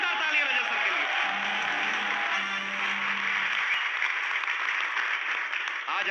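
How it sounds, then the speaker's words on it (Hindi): Sustained audience applause fills the hall, steady and dense with a faint low tone beneath, continuing without a break for several seconds. "एक बार जोरदार ताली बजा सर के लिए।"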